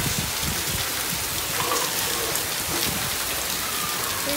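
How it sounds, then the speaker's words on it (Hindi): Heavy rain pours steadily onto open ground and surfaces, a dense, constant hiss with scattered drop impacts and no voices. "ये देखो इतनी तेज बारिश"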